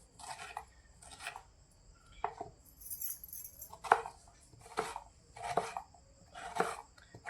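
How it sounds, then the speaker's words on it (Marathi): Knife slicing onion thinly on a board for village-style mutton biryani: a series of crisp, close cuts arriving in small clusters with short gaps between them, fairly quiet and with no talking. "उभा कांदा कापून घेते बिर्याणीसाठी, पातळ शिजलं जातं लवकर."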